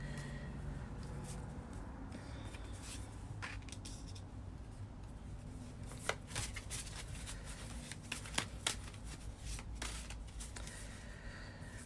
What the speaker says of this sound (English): I'm shuffling the Unfolding Path Tarot.